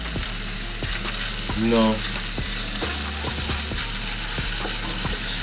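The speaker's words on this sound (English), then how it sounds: "stir fry the meat" Beef dry-frying in a pan, a loud, steady close sizzle with periodic sharp scraping knocks of stirring, and someone briefly talking over it.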